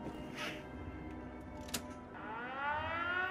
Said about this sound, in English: Oh, yeah, and I put a siren here.